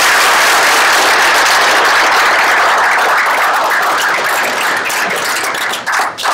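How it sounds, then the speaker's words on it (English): An audience at a leadership breakfast talk applauds, producing a loud, dense, steady wash of clapping that carries through most of the clip and thins out near the end. "Let's give a round of applause for it"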